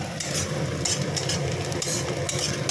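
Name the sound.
frying potato stuffing with onion, chilli, garlic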